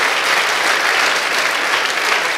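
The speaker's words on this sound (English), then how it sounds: "Give them a round of applause." A crowd at a sobriety celebration applauds someone marking thirty days sober, a loud, dense, unbroken wash of clapping filling the room with no talk over it.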